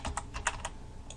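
Password being typed on a computer keyboard: about seven quick, light keystrokes in an uneven burst over roughly a second, close and fairly quiet with no talking.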